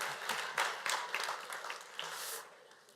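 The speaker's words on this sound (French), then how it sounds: "on l'applaudit" A church congregation applauds together, a dense, fairly faint wash of many hands clapping that holds steady and then fades toward the end.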